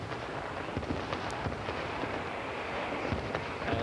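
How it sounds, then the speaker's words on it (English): Fireworks boom at a baseball All-Star Game between the Blue Mountain League and Perkiomen League in Pennsylvania, giving a dense, continuous rumble of distant bursts and crackles without clear separate blasts. "As the fireworks are really booming now."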